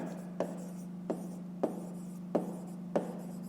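A pen writes on paper in a series of five soft, evenly spaced strokes over a low steady hum, close and faint, with no talk.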